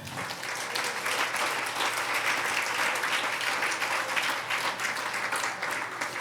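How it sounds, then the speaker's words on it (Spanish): A church congregation gives a strong, steady round of applause during a service, a dense, continuous wash of many hands clapping at an even loudness for several seconds. "Denle un fuerte aplauso al Señor."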